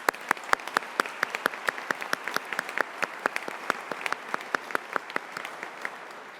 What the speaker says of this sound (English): Let's have a cheer for you.